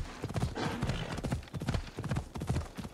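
Rapid, steady clip-clop of a galloping horse's hooves close up in Assassin's Creed Odyssey, a dense rhythmic drumming carrying on throughout with no voices.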